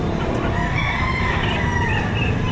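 Several roosters crow and cluck at a Padre Garcia, Batangas livestock auction market, overlapping calls over a busy, crowded background din.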